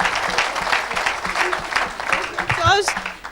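A church congregation applauds with dense, continuous clapping, while a voice speaks loudly over it.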